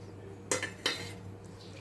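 Marinated small darkina fish go into a pan and get mixed, marked by two quick utensil clinks against the pan over a quiet, low-humming background.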